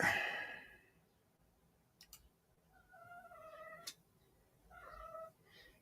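A house cat meows several times at close range in a quiet room, drawn-out tonal calls after a brief rustle and a couple of clicks.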